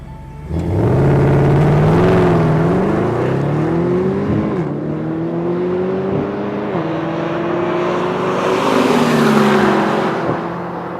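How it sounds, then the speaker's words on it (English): A 2013 Mercedes-Benz SLS AMG GT coupe on a race track roars loudly as it accelerates, its engine pitch climbing through several gear changes with brief dips between shifts, up close and with no voices. "I took the wheel of the SLS and challenged racer Tommy Kendall for a quick tete-a-tete"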